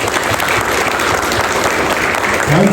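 Steady, loud applause from a large audience at a 2026 school graduation ceremony, honouring the graduates' parents; dense continuous clapping fills the whole stretch without letting up.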